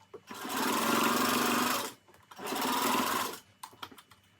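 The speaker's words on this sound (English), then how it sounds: "You sew it again like 2 to 3 times." A sewing machine runs in two sustained bursts of rapid mechanical stitching while back stitching a fabric knot headband, followed by a few short clicks and taps, close and clear with no talk.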